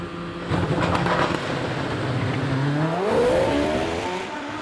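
A Gould GR59 hillclimb car with an Indy engine bored out to 3.3 litres launches at Prescott, a loud, close engine roar rising in pitch through a sharp gear change as it accelerates away.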